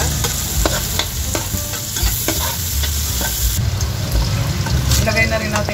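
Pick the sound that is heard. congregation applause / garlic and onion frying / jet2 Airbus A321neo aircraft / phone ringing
garlic and onion frying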